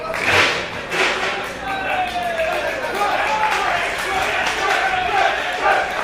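Wrestling fans packed standing at ringside with no chairs roar and cheer continuously during a three-way match between Trent Barreta, Rich Swann and Roderick Strong, a dense, loud crowd wash with scattered shouts and sharp impacts.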